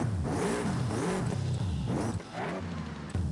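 A car engine in the video game Forza Horizon 5 revs and accelerates in repeated rising-and-falling pitch sweeps, loud and continuous, with a brief dip before it surges again. No voices are heard.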